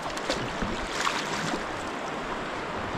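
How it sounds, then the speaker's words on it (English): Gentle kayak paddling on flowing water, a steady wash of moving water with soft splashy strokes throughout, fairly close and with no talk. "So just gentle paddling."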